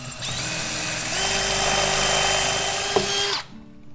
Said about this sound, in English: I found an appropriately sized drill bit. Just gonna go ahead and get this drilled out real quick.